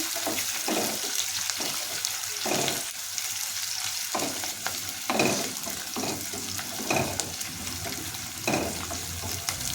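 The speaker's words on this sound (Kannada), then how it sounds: "ಇದಕ್ಕೆ ಕರಿಬೇವಿನ ಸೊಪ್ಪನ್ನು ಸೇರಿಸಿ ಇದನ್ನು ಸಹ ಫ್ರೈ ಮಾಡ್ತಾ ಇದ್ದೀನಿ" Onion and curry leaves fry in a pan for aloo rice bath, a continuous close sizzle punctuated by repeated stirring scrapes at an uneven rhythm, with no one talking.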